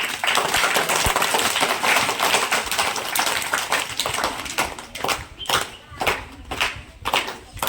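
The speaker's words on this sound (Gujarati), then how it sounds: "જોરદાર છોકરાઓ તાળી પાડો" A crowd of boys claps loudly at an honouring ceremony, a dense burst of applause that thins into scattered, uneven claps and fades in waves toward the end.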